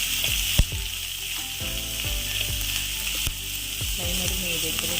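Mushrooms sautéing in a pan for a roast, a loud dense sizzle with a couple of sharp knocks from a spoon against the pan, no talking over it.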